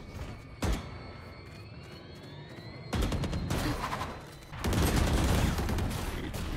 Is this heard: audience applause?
no